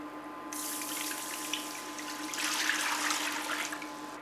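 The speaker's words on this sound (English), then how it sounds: "Now we're going to add the water." Water pours into a pot of browned stew paste for a plant-based boeuf bourguignon, a steady rushing splash starting abruptly and continuing at moderate level over a faint background hum.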